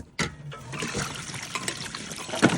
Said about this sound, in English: Water, water, water. So much to play with.